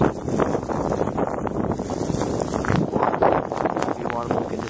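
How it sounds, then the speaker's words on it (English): Strong wind during a snowstorm in New York City roars steadily and buffets the microphone, a constant close rush with someone speaking over it. "The wind started to pick up a little bit again. You see it's blowing."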